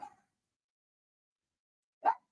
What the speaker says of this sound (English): You can hear another dog outside.